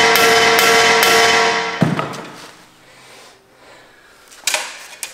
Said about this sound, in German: Jetzt können wir unser Dorn nehmen und jetzt versuchen, mit dem Dorn schön rauszukloppen.